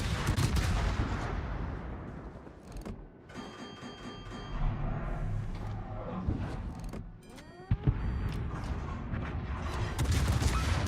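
Naval gunfire in the video game World of Warships, heavy booming shots and rumbling salvos, with a sharp crack near the end, over engine drone and game sounds, no talk.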